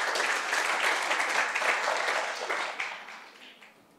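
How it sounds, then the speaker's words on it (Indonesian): Congregation applauding during a church worship service, a dense wash of clapping from many hands that is loud and sustained, then gradually fades toward the end, with no talk over it. "Tepuk tangan buat Tuhan kita."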